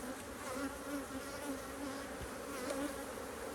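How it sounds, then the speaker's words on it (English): A dense, steady drone of many honey bees buzzing close around a hive, continuous and layered with no talking. "The bees are getting more active."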